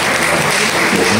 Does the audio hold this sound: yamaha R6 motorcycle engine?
no